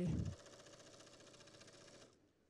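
Sewing machine stitching binding onto a patchwork quilt, a steady fast needle rattle running for about two seconds after a brief louder thump at the start, then stopping.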